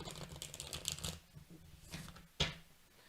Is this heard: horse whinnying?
no